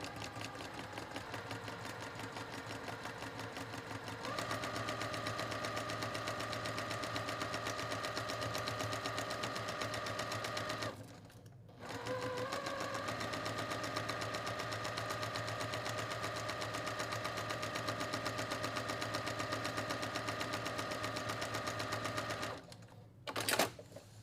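A sewing machine stitches along the outer edge of a large quilt block on a flat surface, a steady mechanical whirr running continuously with two brief pauses before resuming.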